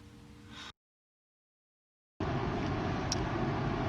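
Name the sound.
car driving on a motorway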